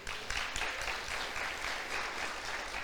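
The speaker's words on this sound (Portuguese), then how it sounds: "Aplauda o Senhor mais uma vez." A church congregation claps together during a worship service, a steady, full wash of applause that holds at an even loudness from start to finish.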